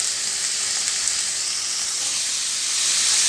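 Chicken cooks in a pan for white sauce pasta, giving off a steady, loud, bright sizzle and hiss that holds constant and swells slightly at the end, with no talking.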